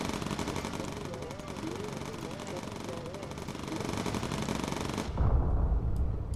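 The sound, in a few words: turret machine gun firing incendiary rounds, Bomber Crew video game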